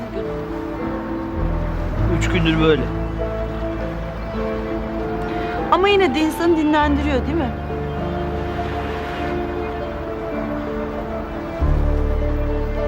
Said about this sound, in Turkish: Deniz biraz dalgalı